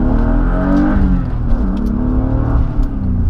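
A modified car's engine revs hard and steadily while driving on twisty roads, a loud continuous growl with rising and falling pitch that stays close and fills the whole stretch.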